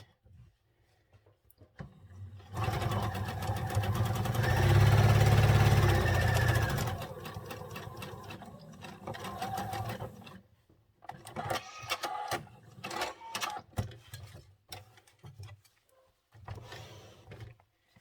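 A sewing machine stitches a welt pocket on a hoodie, first in one sustained whirring run of several seconds, then in a series of short, choppy bursts with pauses between.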